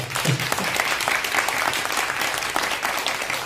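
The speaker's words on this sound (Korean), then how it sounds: "박수 한번 주십시오." An audience claps at a citizen center event, a steady, fairly close wash of applause lasting a few seconds without talk over it.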